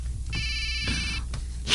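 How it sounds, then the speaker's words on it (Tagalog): A cellphone rings with an incoming call, a bright electronic ring tone in two short bursts over a low background hum. "Ang cellphone mo, Nung, may nagapanawag"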